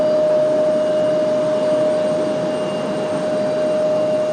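An airliner jet flies near RDU airport, a loud continuous engine roar with a steady high whine running through it.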